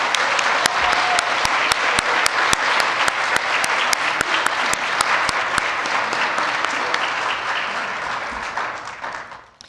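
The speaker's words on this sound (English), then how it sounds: "Let's give them all just another round of applause." A church congregation claps after a holiday concert service, loud dense applause filling the room with a few sharp louder claps standing out, then tapering off at the end.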